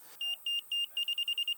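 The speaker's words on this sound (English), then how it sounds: "If it's just beeping really fast," Laser level receiver beeping while a contour line is set out for a swale: three longer high beeps, then a rapid string of short ones as the reading nears level, crisp and close, with no talk.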